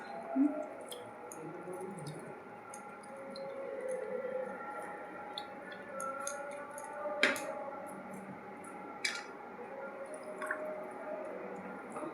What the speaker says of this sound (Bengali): এই গন্ধলেবু কেটেছি, গন্ধলেবুর রস দিয়ে দিচ্ছি